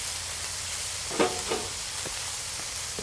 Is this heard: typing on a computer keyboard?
no